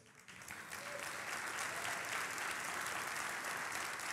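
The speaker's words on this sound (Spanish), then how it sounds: "Aplauda con más fe en esta noche." A church congregation applauding during an evening service, a dense, steady wash of many hands clapping that swells in and holds at a fairly distant, moderate level without talk.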